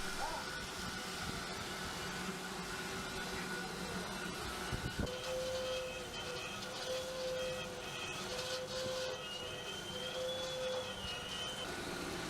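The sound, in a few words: horizontal bandsaw cutting large metal pipes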